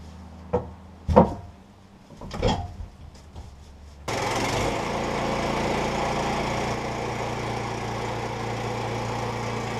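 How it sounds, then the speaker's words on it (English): A sawmill engine, first run in over a month, comes to life after a few scattered knocks and pulls, then settles into a steady, loud, close-up running drone that holds without a break. "This was the first time I'd run the sawmill in more than a month."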